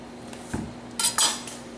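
A knife splitting a raw butternut squash of over two pounds in half: one dull thunk on the cutting board, then two sharper cracks and scrapes as the blade pushes through.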